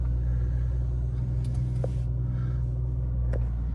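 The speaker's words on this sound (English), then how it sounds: "So let's just start the car." A BMW M140i Shadow Edition with automatic gearbox idling right after starting, a low steady engine rumble close by with a couple of faint brief clicks and no talk.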